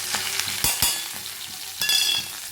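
Vegetables and spices for Bengali shukto fry in a pan, a steady close sizzle broken by a few sharp scraping stirs of the spoon, with no one talking.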